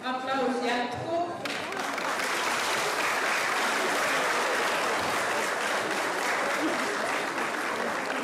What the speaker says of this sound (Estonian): Aplaus jätkub.